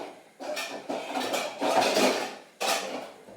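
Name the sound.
lid being put on a pot on the hob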